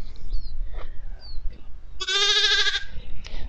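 Sheep and lambs in a lambing shed, with one loud, close, wavering bleat in the middle and fainter bleats around it over rustling background noise.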